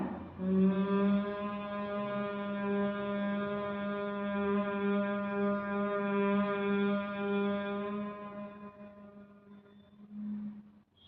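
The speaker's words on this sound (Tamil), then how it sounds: "இப்போ நம்ம என்ன சவுண்ட் பிடிக்க போகிறோன்னா ஹம்மிங் தி சவுண்ட்" A single steady, low hum held on one long exhale for about ten seconds during Bhramari (bee breath) pranayama, rich and buzzing, fading out at the end.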